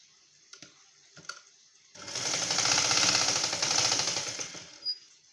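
A sewing machine stitches a prince-cut blouse in one steady run of about three seconds, a fast rhythmic mechanical whir that swells and fades, preceded by a few soft handling taps and ending with a single clunk.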